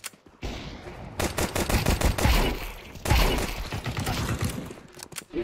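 Counter-Strike 2 gunfire crackles in rapid automatic bursts, loud and close, with two long volleys of quick shots separated by a brief pause and a few single cracks at the end.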